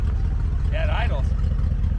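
A 1971 International Travelall engine idling with an open manifold, a loud, close, steady low rumble, with a brief voice partway through.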